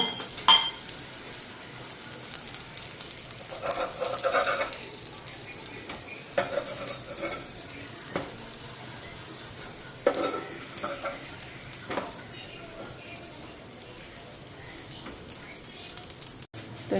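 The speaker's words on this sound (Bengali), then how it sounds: "ওই পিঠটাও তেল দিয়ে ভাজুম।" Pitha sizzling as it fries in oil in a pan, a soft steady crackle with occasional stirring and scraping clinks of a utensil against the pan.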